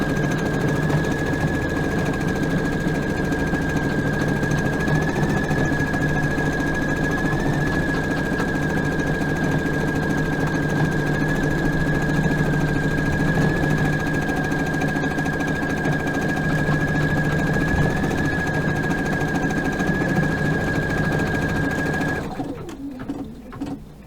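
A home embroidery machine runs steadily while stitching an in-the-hoop fabric feminine pad, giving a continuous, even mechanical whir with a constant tone for about twenty-two seconds, then stopping abruptly.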